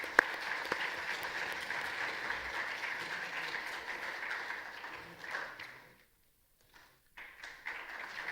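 A workshop audience on intellectual property rights claps for speakers, a moderate, even crowd applause that thins after a few seconds, drops out briefly, then returns faintly.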